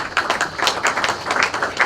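An audience claps for a professor walking up to a stage at a literary celebration of African writers: dense, fairly close applause made of many quick overlapping hand claps, steady throughout.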